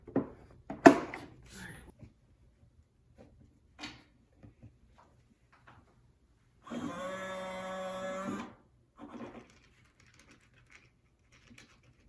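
An automatic SafePet cat feeder dispenses food with a short mechanical whir of about two seconds, which stands out against quiet scattered clicks and rustles before and after it.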